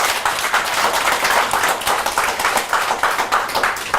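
A youth group at a church camp claps for the camp cooks, loud, close, rapid hand claps in a lively, slightly rhythmic burst that continues throughout.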